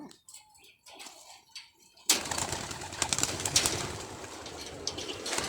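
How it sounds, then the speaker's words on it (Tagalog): Pigeons burst out of an opened cage in a rush of wing flaps and fluttering that starts abruptly and stays loud and dense, after a brief stretch of quiet with faint coos and rustling. "Ayun mga kalapatids, sumipad na sila."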